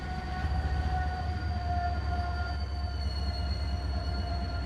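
Rio Grande train running in the Trainz simulation game on the Soldier Summit route, a steady loud diesel engine rumble and rolling drone that holds throughout with no talk.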